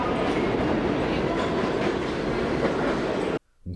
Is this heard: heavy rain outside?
no